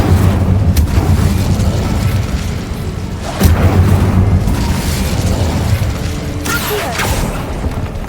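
In Hogwarts Legacy, the Incendio fire spell goes off repeatedly in a tomb, with loud, close whooshing bursts and booming rumbles that swell and fade several times over a rough, continuous bed of game noise.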